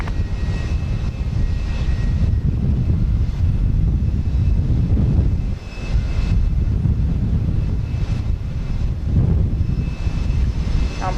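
United airliner landing at Houston Intercontinental Airport, a loud sustained roar of jet engines with wind buffeting the microphone, swelling and easing over several seconds with no voices.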